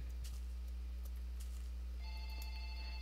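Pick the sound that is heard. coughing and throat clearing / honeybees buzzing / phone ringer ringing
phone ringer ringing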